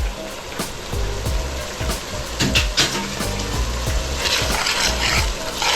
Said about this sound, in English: The vegetables are simmering.